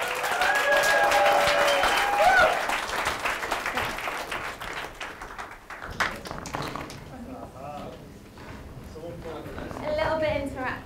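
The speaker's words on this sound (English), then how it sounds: "large round of applause for Stephanie Cohen." Loud, sustained applause from a conference audience, clapping densely before gradually thinning out and fading, with some murmuring voices underneath.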